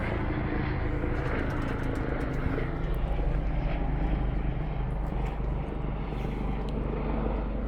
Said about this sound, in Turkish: Helikopter de uçuyor.